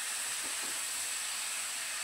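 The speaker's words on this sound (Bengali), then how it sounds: "এবার আগে থেকে কেটে বেছে নেওয়া যে শাকগুলো, সেই শাকগুলো আমি দিয়ে দিলাম এখানে।" Freshly cut babri greens drop into a hot pan of fried eggplant, giving a steady, even hiss with a couple of faint soft thuds near the start and no voices.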